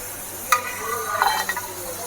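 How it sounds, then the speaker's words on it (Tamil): Potato pieces frying in hot oil in a pan for potato rice, a steady close sizzle with a few light scrapes and clinks of stirring. "நல்லா உருளைக்கிழங்கு வெந்துகிட்ருக்கு. அப்படியே நல்லா ப்ரௌன் ஆகட்டும்."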